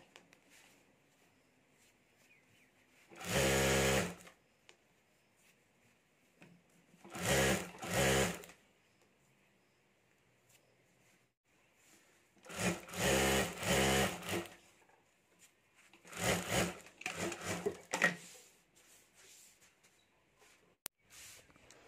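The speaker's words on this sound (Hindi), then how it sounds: "और अब हमें यहाँ सिलाई कर देनी है।" A sewing machine stitches the lining of a homemade potali bag in four short bursts of rapid mechanical whirring, close and clear, separated by quiet pauses.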